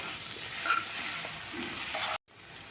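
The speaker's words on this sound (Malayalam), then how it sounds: "വെന്തതിന് ശേഷം ഒരു മുട്ടയും ശകലം കുരുമുളക് പൊടിയും ഒരു നുള്ളു ഉപ്പ് പൊടിയും കൂടി മിക്സ് ചെയ്ത് ചേർക്കുക അത് നന്നായി ഇളക്കുക" Fig thoran sizzles faintly in a pan as egg, pepper and salt are stirred in. The frying hiss is soft and continuous with light scraping, then it cuts off abruptly.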